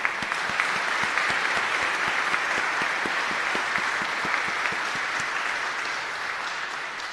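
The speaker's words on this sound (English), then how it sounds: "Let's give them a round of applause." A crowd gives a round of applause at an outdoor Veterans Day ceremony at a school in Palmetto Bay, Florida. Dense, steady clapping rings out at fairly even volume for several seconds, with some sharp nearby claps standing out in front.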